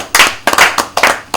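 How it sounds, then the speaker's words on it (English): Hand clapping in three quick bursts of a few claps each, loud and close, with no talk over it. "Quand on applaudit comme ça"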